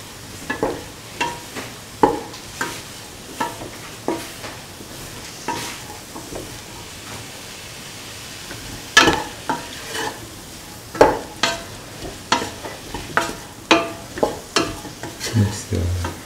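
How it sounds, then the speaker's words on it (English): Spiced cauliflower and potato rice being stirred in a frying pan, a spoon scraping and tossing it in repeated short strokes over a soft, steady sizzle. "Mix the garam masala or mixture spices into the mixture."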